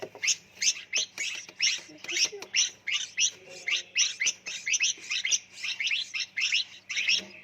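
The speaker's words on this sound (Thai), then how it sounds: "มันก็จะทำการป้อนอาหารลูกนกใน ตู้เนสเซอรี่อนุบาลลูกนกนะคะ" Baby birds in a nursery box chirp loudly and repeatedly during hand-feeding, a rapid near stream of high begging calls with no talk.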